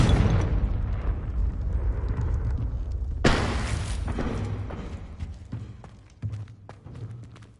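Confringo spell blasts in the Hogwarts Legacy video game: two sharp, booming explosions, one at the start and another a few seconds later, each trailing into a rumbling decay, followed by smaller pops and thuds.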